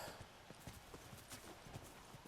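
Horse hooves clip-clop in a steady walking rhythm in The Last of Us Remastered, a series of soft, fairly faint, evenly spaced knocks.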